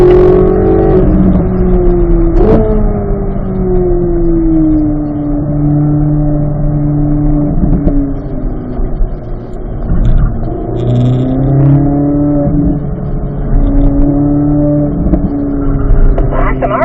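Race car engine on a track, a steady loud drone whose pitch climbs and dips through gear changes and corners, running continuously under intermittent talk from a driver.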